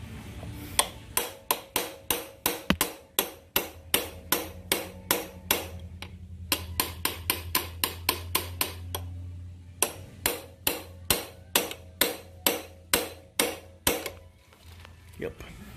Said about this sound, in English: Might actually have to get a hammer on the situation.